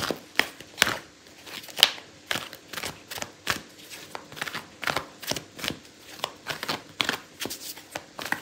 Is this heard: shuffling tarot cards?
yes